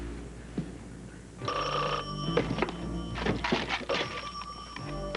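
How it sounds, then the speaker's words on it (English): An old-fashioned telephone bell rings in bursts alongside clunks and knocks nearby, the ringing fairly close and insistent, from a 1983 television soap opera. "Phone's ringing."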